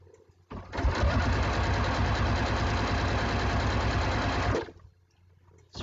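A sewing machine stitches binding onto a quilt in one steady, close, continuous run of about four seconds, starting and stopping abruptly with quiet room tone on either side.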